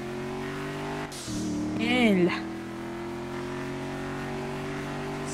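A car in GTA roleplay with a steady engine drone, a sudden jolt, then a rising and falling rev with a whining tone before settling back to a constant hum; a man exclaims briefly.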